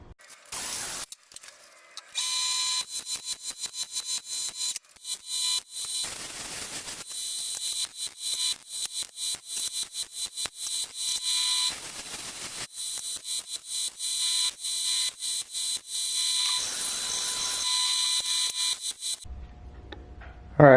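Tack welding on a 280Z fender: a rapid, crackling buzz of short welding bursts repeated many times, broken by brief pauses, close and steady for most of the clip, ending in quiet, with no talk.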